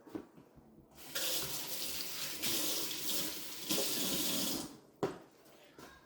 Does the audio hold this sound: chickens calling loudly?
no